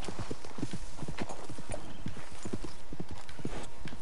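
Horse hooves clip-clop on a road in the video game Red Dead Redemption 2, a steady, close, rhythmic trot throughout, alone without talk.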